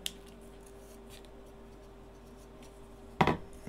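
Wire for a DS18B20 temperature sensor on an ESP8266 is snipped once, a short crisp cut near the end of an otherwise quiet stretch, close to the microphone.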